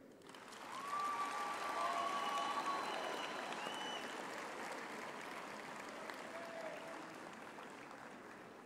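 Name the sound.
graduates applauding their families and friends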